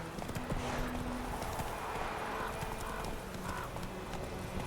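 Roach, Geralt's horse in The Witcher 3 on Nintendo Switch, gallops in a steady clip-clop of hooves over ambient game noise, with a brief whinny and faint voices in the background.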